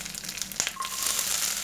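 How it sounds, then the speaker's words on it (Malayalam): Mustard seeds spluttering and curry leaves frying in hot oil while cooking a soya chunks roast, a soft crackling sizzle with a sharp pop near the middle, close and fairly faint. "കടുക് പൊട്ടി ഇതിലേക്ക് കറിവേപ്പില ഇടാം."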